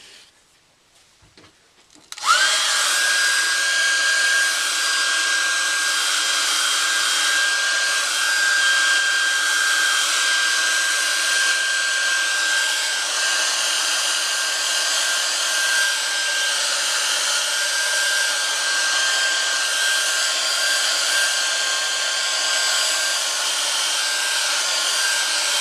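A hair dryer blows over a watercolour painting of a ladybug, switching on after a brief click and then running loud and steady with a constant whine until the end.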